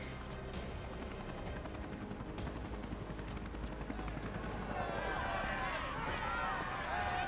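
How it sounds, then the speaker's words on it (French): Helicopter from the video game Dead Island hovering near a cinema rooftop amid a zombie brawl, a steady rotor drone running through the whole stretch under gameplay noise and faint chatter. "Et C'est jamais qu'un seul hélicoptère."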